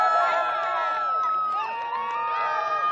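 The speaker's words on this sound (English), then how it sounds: "another employee gathering to cheer on New Glenn" Employees gather to cheer the first launch of Blue Origin's New Glenn rocket, their voices forming a loud, dense crowd roar with shouting and whooping that holds steady for a few seconds.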